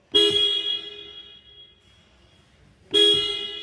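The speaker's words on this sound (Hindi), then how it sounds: "एक बार गाड़ी का हॉर्न भी चेक करते हैं" Two loud, steady blasts of a 2022 Mahindra XUV300's horn, the first about three seconds long and the second starting after a short pause, with no talking.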